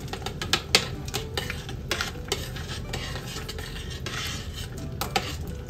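Mushrooms cooking in a pan as chopped chives and finely minced onion go in, giving steady stirring and scraping with sharp clinks of a utensil against the pan over a low sizzle, close and moderately loud.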